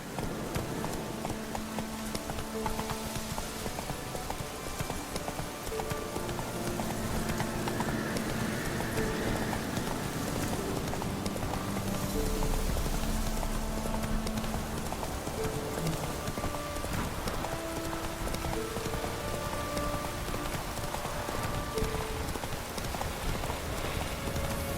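Hooves of Roach, a horse in the video game Witcher 3, clip-clopping in a steady walking rhythm throughout, close and fairly loud over a layer of game music and ambient noise.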